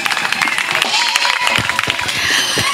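A church congregation applauds during a service, brisk clapping from many hands with voices calling out among the crowd, close and lively over a short stretch.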